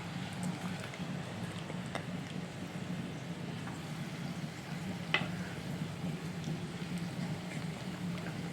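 Thick pieces of rohu fish simmer in a pan of gently boiling gravy for a Gandharaj rui dish, giving a soft, steady sizzle and bubbling with occasional small clinks.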